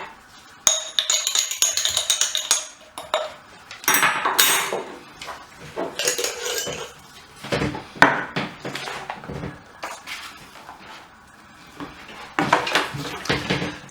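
A knife slices and scrapes fat off a chuck roast steak on a cutting board, giving irregular close knocks, scrapes and clinks that come in bursts with short pauses between them, and no voices.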